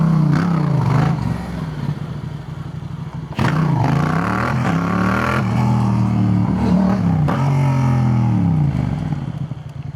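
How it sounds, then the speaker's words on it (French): Yamaha MT-07 motorcycle engine roaring while riding through Lyon, rising and falling through repeated revs and gear changes, loud and close with wind rush throughout. "Je pense que c'est bien que vous ayez aussi le son de la moto qui hurle quoi."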